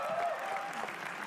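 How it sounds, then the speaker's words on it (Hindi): Audience applause after an act is introduced at a live comedy roast show, a steady wash of clapping from a crowd that holds at an even level throughout. "अगली एक्ट श्रेया प्रियम रॉय के लिए तालियां एक बार प्लीज"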